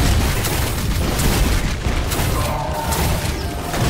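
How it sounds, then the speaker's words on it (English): Grenade blast in the shooter Ion Fury, a dense, loud low-end boom and rumble that stays continuous through the whole stretch, with clattering game-combat noise layered over it. "Oh lordy, here comes the grenade"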